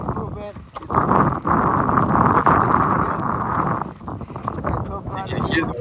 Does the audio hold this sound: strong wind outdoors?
yes